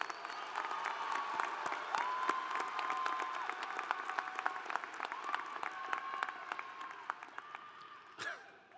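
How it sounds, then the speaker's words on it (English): Sustained applause fills a large hall at a spring 2019 commencement ceremony as graduates are congratulated. Many hands clap in a steady, dense patter at moderate distance, with a few sharper individual claps standing out before the applause thins toward the end. "Let's give them both a round of applause."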